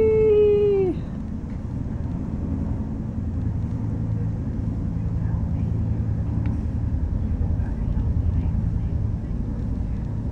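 Helicopter lifting off and flying away, a steady low rotor and engine drone that fades slowly after a voice's brief whooping call at the start.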